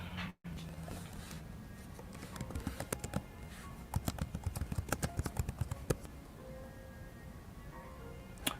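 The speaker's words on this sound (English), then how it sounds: "Forgive me for typing at the microphone." A computer keyboard is typed on right beside the microphone, giving a quiet, irregular run of close clicks and taps that bunches up mid-clip before thinning out.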